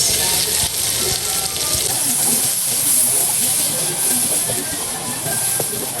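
Garlic and onions sizzling in melting Star margarine in a pan for a crab dish, a loud, steady, close hiss that runs unbroken throughout.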